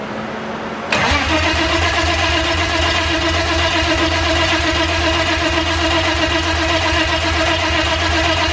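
A car engine cranks briefly, then catches and settles into a steady, loud idle at its first start-up of the season, with no talk over it.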